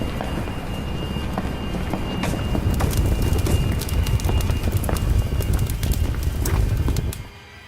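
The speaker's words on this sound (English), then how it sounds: "The sound of footsteps can be heard coming from almost every direction." Footsteps sound effect from the Mansions of Madness board game, a dense loud patter of many overlapping hard steps rising in intensity and stopping abruptly near the end, with no talking.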